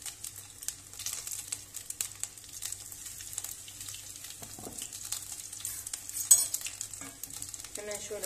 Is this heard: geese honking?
no